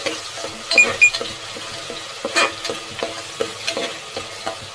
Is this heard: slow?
no